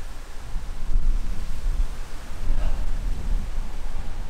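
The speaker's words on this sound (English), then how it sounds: "Bit windy." Strong wind at a lakeside overlook on the South Elberta Dunes trail in Northern Michigan buffets the microphone in heavy, low rumbling gusts that swell and ease, loud and close.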